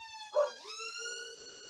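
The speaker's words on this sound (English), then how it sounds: "There's alarms and sirens" A wailing siren rises and holds a steady tone, with a dog howling along, harmonic and sustained, fairly close.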